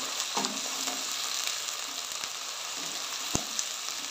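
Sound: onions frying in a pan

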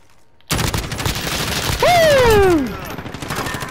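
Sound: gunfire in Call of Duty Modern Warfare video game

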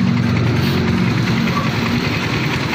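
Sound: motorcycle engine running during fuel system cleaning

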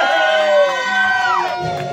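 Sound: crowd cheering and shouting at a party

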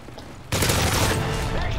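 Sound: Barrett sniper rifle gunfire in Modern Warfare 3 video game

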